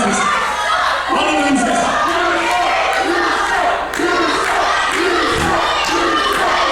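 A live crowd at a British wrestling show shouts, chants and cheers in a loud, continuous roar, with rhythmic chant bursts rising and falling throughout.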